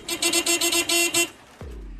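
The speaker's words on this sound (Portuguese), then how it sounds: "O motorista buzina sem parar para abrir caminho para sairmos dali." A car horn in North Korea honks repeatedly in a series of short, loud blasts with brief gaps, then stops, leaving a low engine rumble.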